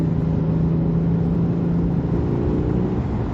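Genesis G80 3.3t Sport sedan under full throttle from about 52 mph, a steady, loud mid-range engine drone with a strong low hum and rising harmonics, heard from inside the cabin with no talking.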